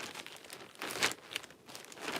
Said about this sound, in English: Listen to the noise of the plastic bag.